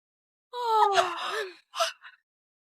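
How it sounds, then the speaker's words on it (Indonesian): A young woman's drawn-out yawn, a long breathy inhale with a gliding voiced tone that falls away, then a short breathy exhale after a brief pause, close and fairly quiet. "aku cuma menguap"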